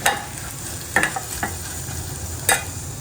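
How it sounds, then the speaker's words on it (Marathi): Food frying in oil in a pan, a steady sizzle with a few sharp clinks and scrapes of stirring, no talking. "नॉर्मल असं तेलामध्ये आपण जसं फ्राय करून घेतो तसंच मी फ्राय करून घेणार"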